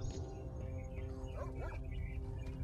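Dogs bark and yip in STALKER: Shadow of Chernobyl, several rapid barks and whines rising over a constant low rumbling game ambience.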